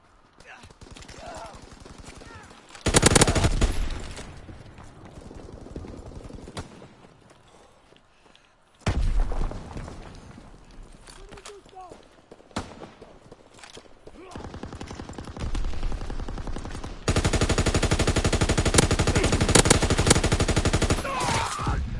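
Machine gun fire in a World War-themed shooter game rattles in loud sustained bursts separated by quieter gaps, ending in a long continuous volley, with a voice occasionally speaking over it.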